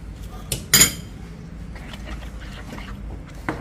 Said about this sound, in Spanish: Cambio de cuchara.